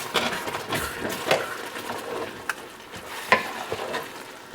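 Rice being scraped off the bottom of a frying pan after deglazing, for a pig tails and rice dish: a steady wet sizzle under scattered scraping strokes and sharper clicks, close and moderately loud.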